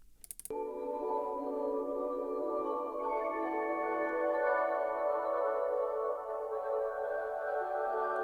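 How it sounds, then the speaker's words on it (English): After a short click, an atmospheric synth loop from a sample pack swells into a smooth, sustained tonal pad that holds evenly at moderate loudness, with no talking. "I've dragged in this Atmos loop from this month's sample pack in my community,"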